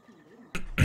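A streamer coughs twice in quick succession, close to the microphone and fairly loud, after a moment of faint background game sound.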